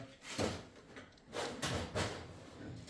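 A workshop drawer being opened and closed during repair work on a barn-find Rabbit, giving several short wooden sliding and rattling bursts close by, with no talk.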